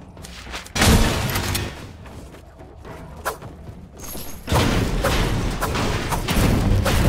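Loud pistol gunfire in a shooter video game, bursts of sharp shots and heavy impacts clustered in two dense stretches, with a quieter gap in between and no talking.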